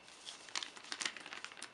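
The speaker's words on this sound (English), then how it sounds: "This is a grocery bag plastic I am using here." Thin plastic from a grocery bag being handled and crinkled, a quick series of sharp crackling bursts, close and fairly quiet, with no one speaking.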